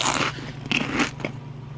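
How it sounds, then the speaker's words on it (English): Crunchy bites of pizza being eaten close up, several distinct crunching bites with chewing in between, no talking. "I'm eating more pizza."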